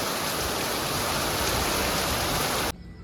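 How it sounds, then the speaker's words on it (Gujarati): Heavy monsoon rain pours steadily with wind, a dense, loud, unbroken hiss that fills the scene before cutting off abruptly just before the end. "આ જોવો અત્યારે કેટલો વરસાદ આવે"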